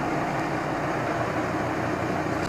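A 2012 Volvo XC90 engine idles under a continuous, even broadband rumble and hiss at close range, with no voices.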